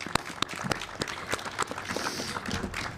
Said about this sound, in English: Can we give them all a big applause?